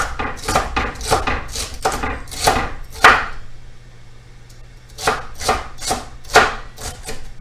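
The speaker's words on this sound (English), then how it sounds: "So this is my 2 stalks of celery. We're just going to go for a nice slight cut." A knife slices through two celery stalks on a breadboard in a kitchen, giving a quick run of sharp, close chopping thuds, a brief pause, then another steady burst of cuts.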